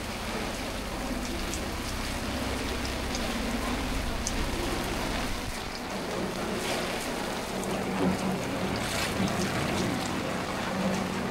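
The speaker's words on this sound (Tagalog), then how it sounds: "Ulan na naman mga bay." Steady rain falling outdoors near the water after a storm, a dense continuous hiss with scattered drop patter throughout, moderately loud and unbroken.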